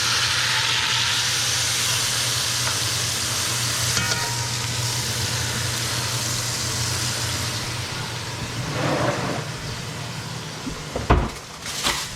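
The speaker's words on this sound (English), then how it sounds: "I'm gonna just let it get a sear on each side." Pot roast beef sears in a hot pot with a continuous, close sizzle and hiss, moved around occasionally, ending in a couple of sharp clatters.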